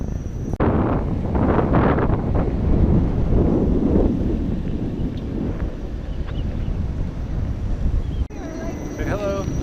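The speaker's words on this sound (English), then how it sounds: "Back on the windy section." Strong wind roars across the microphone during a windy stretch of an e-bike ride, a steady buffeting rumble for most of the clip before it drops away and a brief voice is heard.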